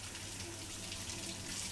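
Tap water runs steadily into a kitchen sink as vegetables are rinsed, a soft, even hiss throughout with no voices.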